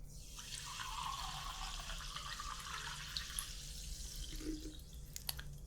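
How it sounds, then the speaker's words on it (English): Crisp sparkling water fizzes softly up close in a quiet ASMR haircut roleplay, a steady hiss of bubbles with a few small drips and trickles near the end. "This is a crisp, sparkling water."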